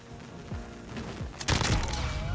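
Uzi submachine gun fire in the video game Modern Warfare: a few scattered shots early on, then dense, loud rapid bursts over the last second, up close.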